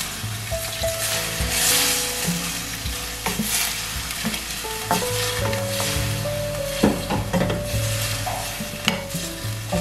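Beef browning in a pan is stirred steadily after water is added, with a continuous loud sizzle, scraping utensil strokes and bubbling throughout, no voices.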